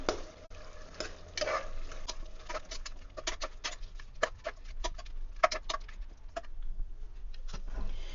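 Yogurt and green chilies get stirred into chicken biryani in a pressure cooker, giving irregular clicks and scrapes of a spoon against the pot over a quiet background, with some soft wet patter between strokes.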